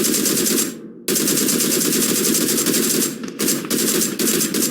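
MK rifle gunfire in the mobile battle royale game PUBG Mobile: loud, rapid automatic bursts, nearly continuous with one short break and a few brief gaps, close and alone.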